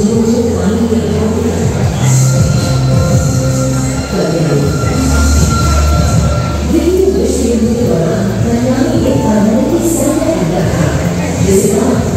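A Sealdah–Ranaghat passenger train rumbles steadily along the rails with loud, continuous wheel noise and squealing, heard from close by, with faint voices underneath.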